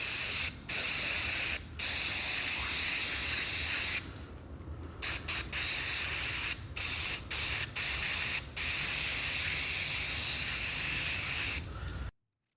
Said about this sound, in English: So we're just going to get a bit of brake cleaner,